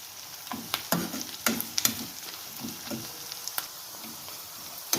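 Dill leaves frying with rice for a Karnataka-style dill rice, a steady soft sizzle with irregular scraping stir clicks from a spoon against the pan, close and moderately loud.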